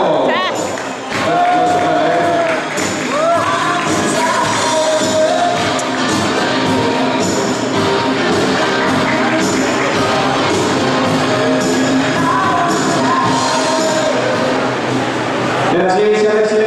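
A crowd applauds and cheers in an ovation for the karting champion at a Carlos Sainz karting championship round, steady clapping and shouts lasting throughout beneath a voice speaking over a loudspeaker.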